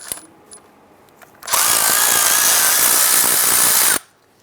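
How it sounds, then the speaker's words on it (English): Power tool with a swivel socket spinning out a 15mm starter bolt on a 2005-2010 Chrysler 300 with a 5.7L V8 Hemi: a loud, close, steady whirring burst of about two and a half seconds, preceded by faint clicks and handling noises. "there are three 15mm bolts. We're going to use our swivel socket here to go ahead and pop these out."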